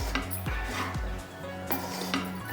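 A spoon scrapes and stirs a dish with ghee in a pan, repeated close clattering strokes at an uneven rhythm, moderately loud, with no voice.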